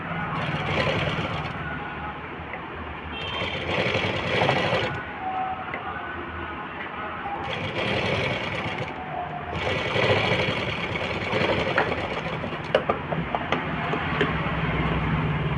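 A sewing machine stitching the folded collar of a small girl's frock runs in steady bursts, whirring loudly and close with short pauses between runs.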